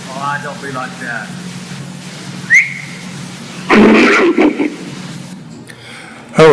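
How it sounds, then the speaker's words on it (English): A whistle exchange in the Sierra Nevada brings a few rising whistled notes early, a sharper whistle midway, and a louder burst of noise afterward. People talk through much of it over a steady low background. "this is a whistle exchange"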